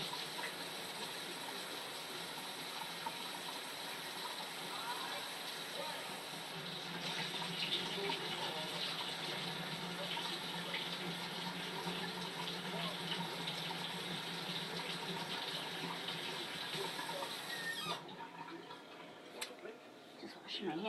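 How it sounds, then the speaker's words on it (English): Hands being washed under a running kitchen tap during baking, a steady rush of water splashing into the sink for about eighteen seconds before it tapers off into quieter drips and handling. "Just washing my hands briefly before we talk to anything else."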